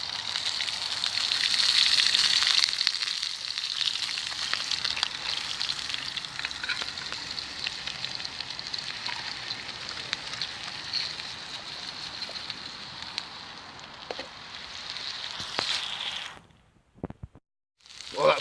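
Pheasant, bacon, potatoes and mushrooms sizzle in coconut oil over a campfire, a steady close frying hiss that runs throughout before dropping away near the end.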